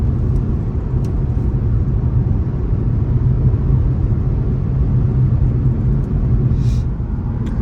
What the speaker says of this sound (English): We're cruising at about 68, and it's just a pretty smooth ride.